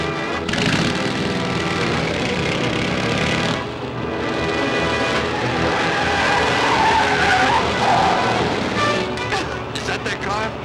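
Tires screeching as cars skid and race in a car chase in a 1941 crime film noir, with long squealing slides, roaring engines and excited voices talking over the action.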